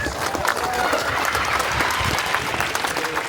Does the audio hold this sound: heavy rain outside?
no